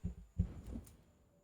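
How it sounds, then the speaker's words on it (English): A heartbeat effect from a PS5 vampire video game plays while a button is held, giving two deep, muffled thumps close together followed by a fading low throb, with no talking. "I like the heartbeat when you gotta hold the button"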